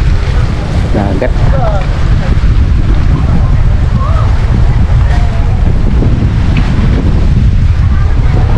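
Sea waves and wind from a boat touring the Hundred Islands off Alaminos, Pangasinan, a steady broadband wash with heavy wind buffeting on the microphone and low rumble throughout, with no clear speech.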